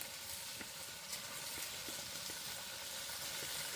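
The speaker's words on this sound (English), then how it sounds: "Listen to the sizzle" Chicken noodles with ginger, garlic, salt, pepper and MSG sizzle in a pan over an open fire pit, a steady close hiss with faint crackles and occasional soft pops.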